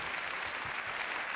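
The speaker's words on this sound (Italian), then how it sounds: "applauso." Television studio audience at an evening event honouring John Paul II gives sustained applause, a soft, even patter of many hands at moderate distance.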